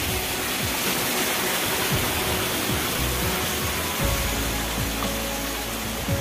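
Rani Jharna, a tall waterfall in a Korba forest, gives off a constant broadband roar of falling water, steady and loud, with a few faint rising whines passing underneath.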